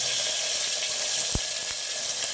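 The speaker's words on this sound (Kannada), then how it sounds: "ಆಯಿಲಲ್ಲಿ ಚೆನ್ನಾಗಿ ಫ್ರೈ ಆಗಬೇಕು" Onion frying in hot oil with mustard seeds and curry leaves for pepper rasam, a steady loud hiss of sizzling with a couple of faint sharp pops, close by and with no talking.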